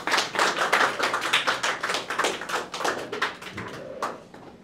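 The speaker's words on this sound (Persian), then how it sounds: "پس تشویق کنیم دانیال" Applause from a group of players and hosts at a Mafia-style party game tournament, a dense burst of clapping lasting several seconds, steady and fairly close, thinning slightly toward the end with no talk over it.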